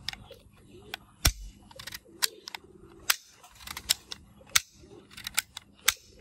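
Toy pistol firing a string of sharp, snappy plastic clicks and pops at an uneven pace, up close and fairly loud, with one louder thump near the start and no talking.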